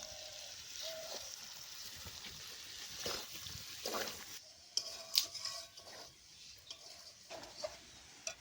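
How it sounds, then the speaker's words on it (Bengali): Spices with chili powder frying in a pan as tomato goes in, giving a faint steady sizzle with soft stirring scrapes and a few light utensil clinks against the pan, fairly quiet and close, no talking. "লঙ্কা গুঁড়ো মশলাগুলো ভালো করে ভেজে নিলাম এখন এর মধ্যে টমেটো দিয়ে দিচ্ছি"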